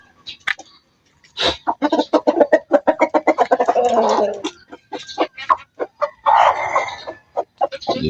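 Two visiting chickens in a rural province yard cluck in rapid repeated bursts and crow, close and fairly loud, with brief pauses between calls.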